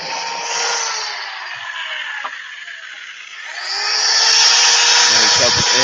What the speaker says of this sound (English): this has been a good drill for me. Works great.